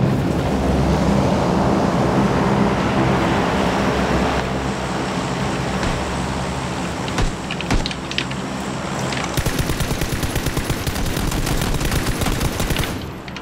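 Gunfire in PUBG rings out against a loud rushing wind and ambient wash, with a few scattered shots followed by a rapid burst of automatic fire near the end, no talking.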